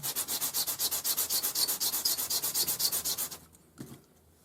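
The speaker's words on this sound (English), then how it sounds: "you need to sand this to make sure that it's flat so that you get a good solder connection" A small metal heart lock part is sanded flat by hand before soldering, with about two dozen quick, even rasping strokes in a steady rhythm that then stop, leaving near silence.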